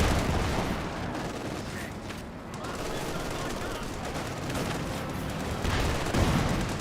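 Sherman Calliope rocket artillery barrage in Company of Heroes 2, a dense rumbling wash of launches and blasts layered with battle noise, steady and loud throughout, with a voice talking over it.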